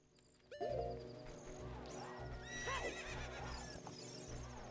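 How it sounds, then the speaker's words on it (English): A horse whinnies loudly and repeatedly in the video game The Legend of Zelda: Ocarina of Time over a steady game soundtrack, with hooves clopping along underneath. "Can you climb onto the damn horse, Link?"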